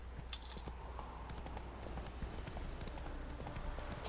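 Roach, the horse in The Witcher 3 video game, gallops with a steady run of hoofbeats over a constant bed of in-game ambient noise, with no talking.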